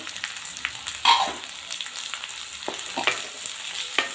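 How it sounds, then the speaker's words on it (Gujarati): Sprouted moong beans and semolina roast in a pan, a soft sizzle broken by repeated scraping stirs and spoon clinks, close and without talking. "સોજીમાં બધું શેકી લેશું"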